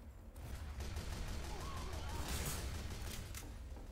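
Team Fortress 2 gunfire forms a dense, continuous stream of rapid shots and impacts, fairly distant and steady throughout, with no clear gaps between bursts.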